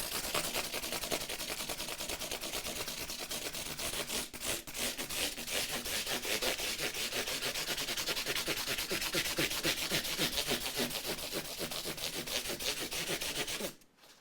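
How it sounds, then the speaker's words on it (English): An Epiphone ES339 guitar is sanded by hand with 400 grit sandpaper, giving a continuous, close, rhythmic rasping rub of quick back-and-forth strokes that runs steadily for about fourteen seconds and then stops abruptly. "I'll do one more quick run up and down with this 400 grit"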